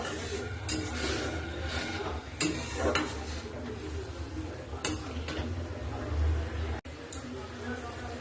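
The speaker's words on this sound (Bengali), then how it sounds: "আর দেবো হলুদ, এখন মশলাটা একটু কষাবো।" Spices with turmeric being stir-fried in a pan, with a spoon scraping and clinking against the metal in irregular strokes over a steady low background hiss.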